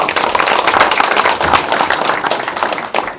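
An audience at a Democratic Party budget policy meeting in Gyeonggi Province claps loudly and continuously, a thick wash of many hands close by, easing slightly near the end.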